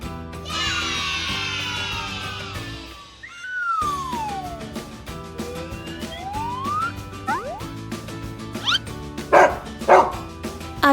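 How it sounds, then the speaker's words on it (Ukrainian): A few sharp dog barks burst out near the end over a bouncy musical backing with sliding, whistly tones. "Це собака."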